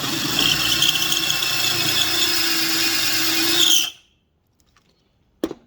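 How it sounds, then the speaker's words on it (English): A power drill running a deburring and chamfer bit on a bolt end whines loudly and steadily for about four seconds with a grinding rattle, then cuts off abruptly, followed by silence and a single sharp knock. "put it onto the end of your drill"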